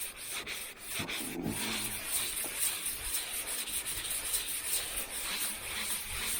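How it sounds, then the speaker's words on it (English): Sandpaper rubbed by hand in circular strokes over body filler on a hail-damaged 2009 Ford Mustang, a steady, close, continuous scratchy rasp with no speech. "So I just got a new piece of sandpaper. So what you want to do is kind of go in a circular motion"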